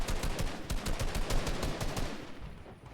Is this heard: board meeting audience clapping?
no